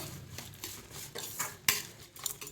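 Onions being sautéed in a pan for white chutney, with a spoon clinking and scraping against the metal in quick, uneven strokes and only a faint sizzle beneath. The stirring is brief and close, with no voices.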